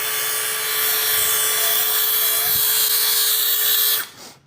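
A DeWalt cordless power file working on wood gives a loud steady high-pitched belt whine close by, running evenly for about four seconds before spinning down.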